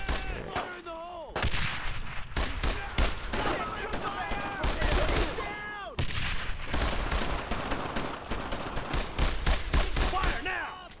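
Gunfire and machine guns rattle through a World War II battle in the Brothers in Arms: Road to Hill 30 video game, with dense repeated bursts and single shots as voices shout over the fighting.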